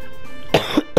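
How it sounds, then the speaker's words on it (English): Three short, sharp coughs in quick succession from one person, close and fairly loud, each a brief burst. "I hate coughing."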